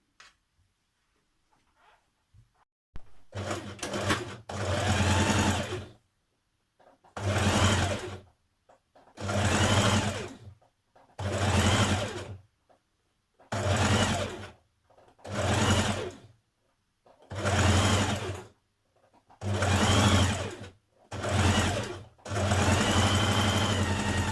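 Sewing machine stitching a dress seam with right sides facing, in about ten loud, even bursts of rapid stitching separated by short pauses.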